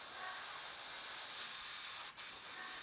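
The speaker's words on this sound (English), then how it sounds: "when my airbrush is working right here, it goes on nicely" Airbrush spraying red trim paint onto a Duchess of Kingston model, a steady continuous hiss that holds close and even with one brief dip in the stream.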